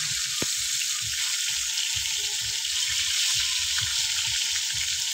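Leafy kulekhara greens fry in a pan with a steady, even sizzle that runs throughout, with faint low knocks and stirring underneath.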